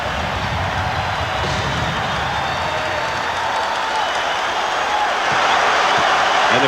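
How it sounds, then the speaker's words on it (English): Basketball arena crowd in a tied 1995 Bulls vs Magic playoff game razzing Michael Jordan at the free throw line, a loud, steady roar of many voices that swells slightly toward the end. "And the crowd starting to razz him."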